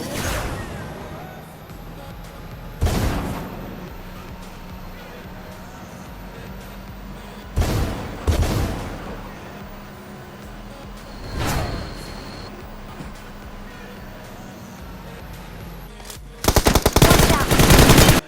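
Gunfire in the video game BGMI comes as sharp automatic bursts at intervals, several short volleys and a longer rapid burst at the end, loud over a steady game background.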